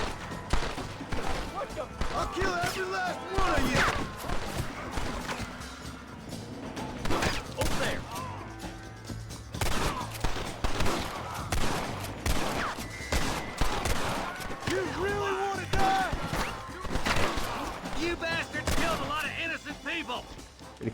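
Gunfire in the Red Dead Redemption game, repeated loud shots and bursts spread across the scene, mixed with game voices and a player talking over the fighting.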